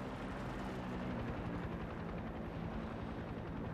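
A large helicopter in the video game Far Cry 6 flies with a steady, close rotor thump and deep engine drone, continuous and unchanging over a few seconds, with no talking.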